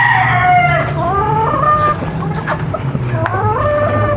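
A yellow-legged Boston gamefowl rooster crows loudly and close, in drawn-out rising and falling calls, while other fowl cluck and crow underneath.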